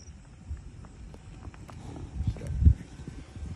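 Soft hoofbeats of a small 14-year-old Quarter Horse gelding walking on ground, irregular and fairly quiet, with a slightly heavier thud near the end.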